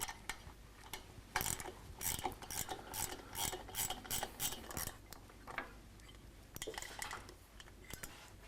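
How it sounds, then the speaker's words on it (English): A wrench on the fasteners of a motorcycle rocker box cover gives quick metallic ratcheting clicks in bursts, with scraping and clinking of tools, close and quiet in a workshop. "you'll probably have to use the closed end of the wrench, and it's going to be more of a challenge to get those fasteners off"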